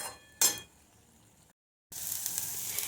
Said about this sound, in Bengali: ভালো করে মশলাটাকে কষিয়ে নিতে হবে, লাল লাল করে ভেজে নিচ্ছি এটাকে